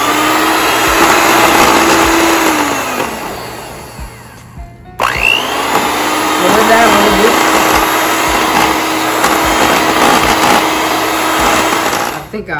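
Electric hand mixer whirring steadily as it blends red bean and rice ingredients in a bowl, a loud continuous motor drone that dips and cuts out briefly before restarting at a higher pitch, with faint talk underneath.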